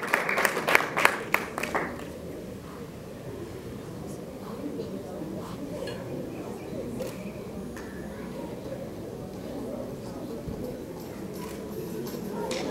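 Guests at a wedding reception burst into a brief round of clapping, sharp hand claps in the first two seconds that fade into a murmuring room with talk continuing underneath.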